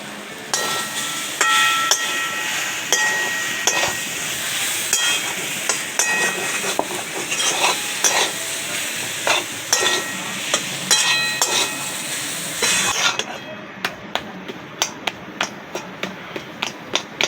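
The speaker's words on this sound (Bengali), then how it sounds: "এবার আমি আলুগুলোকে হাত দিয়ে এরকম করে ভেঙে ভেঙে দিয়ে দেবো।" Boiled potatoes are broken apart by hand into spiced masala in a pan, giving soft squelching and scraping noises with faint sizzling, close and steady, then sparser clicks near the end.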